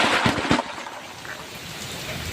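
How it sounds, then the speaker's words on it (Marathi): Heavy rain and strong wind roar as a dense, steady wash of noise, with a few louder gusty bursts at the start, close and continuous. "किती जोरात हवा, वारा, पाऊस चालू आहे बघा मित्रांनो."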